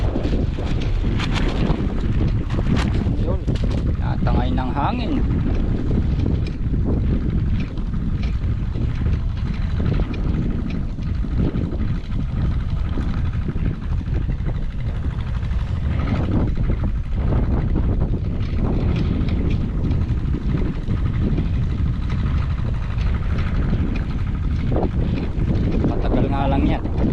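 Strong wind gusting outdoors in open farmland, a loud, continuous rumbling buffet across the microphone that rises and falls throughout, with a voice speaking intermittently underneath.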